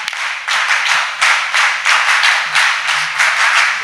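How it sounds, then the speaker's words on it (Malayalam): Audience clapping for a teacher at an NCC Day celebration function, a dense burst of applause in several loud waves across the whole stretch, with no talk over it. "ഒരു കയ്യടി കൊടുത്താലോ ടീച്ചറിൻ്റെ കൂടി അലക്സാറിനും"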